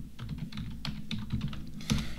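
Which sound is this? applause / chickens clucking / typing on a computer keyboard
typing on a computer keyboard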